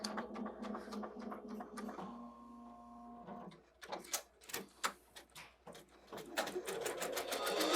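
An embroidery machine stitches a tack-down stitch with a rapid, rhythmic clatter nearby, pauses briefly with a steady hum, then resumes its fast stitching pulses.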